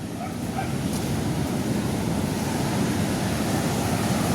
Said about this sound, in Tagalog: Taob kasi kaya medyo may laki ang alon ngayon mga kaibig.